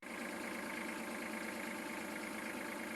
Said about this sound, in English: Tractor's been running great since I changed the fuel filter.